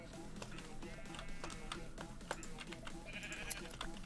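Sheep bleating in Minecraft, a few short wavering calls over a busy game soundtrack, with a clearer bleat near the end; a voice talks around it.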